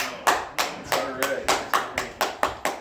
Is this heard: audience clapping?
yes